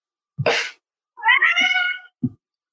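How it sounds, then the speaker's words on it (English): A house cat meows up close: a short sharp cry, then a longer drawn-out wavering meow, and a final brief chirp, loud against silence. "Is that your cat?"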